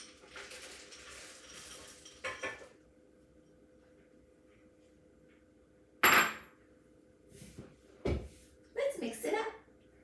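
A spoon or spatula clanks and scrapes in a mixing bowl as cookie dough with milk chocolate chips is stirred, in a few short bursts with quiet gaps, near and moderately loud, with a stretch of talk at the start.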